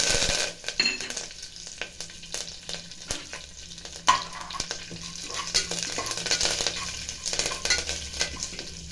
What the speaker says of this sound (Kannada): ಕಡಲೆಬೇಳೆ ಸ್ವಲ್ಪ ಬ್ರೌನ್ ಆದಮೇಲೆ ಸಾಸಿವೆ ಹಾಕ್ತಾಯಿದ್ದೀನಿ ಕರ್ಬೇವಿನ ಸೊಪ್ಪು